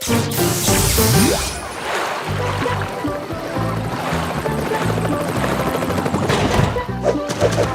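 A cartoon helicopter sets off with a loud mechanical whir and rush, dense and steady through the whole stretch under a busy animated soundtrack with crashing effects.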